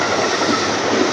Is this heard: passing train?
yes